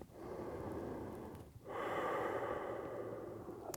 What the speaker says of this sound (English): Breathing deeply through my nose.